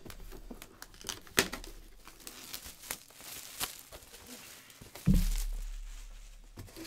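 The cover of a basketball trading card box is torn open with scattered crinkles and rips, then one louder tear near the end. The setting is quiet with no talk.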